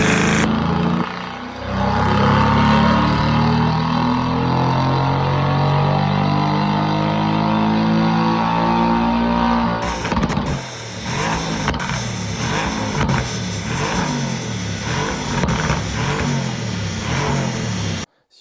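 Mercedes-AMG GT R, tuned to 600 horsepower, revving hard on a dyno, a loud sustained engine roar climbing in pitch, then breaking into rapid choppy revs and bursts before cutting off abruptly.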